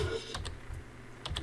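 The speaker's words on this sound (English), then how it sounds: "Sorry, you can hear the typing." Quick keystrokes on a computer keyboard, a few scattered clicks in small bursts, close and fairly quiet over a low background hum, with no talking.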